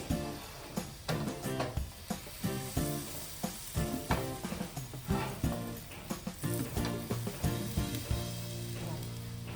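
Bread patties fry in butter in a pan with an irregular crackle, a string of pops and spits over a steady sizzle, close and fairly loud, with no talking.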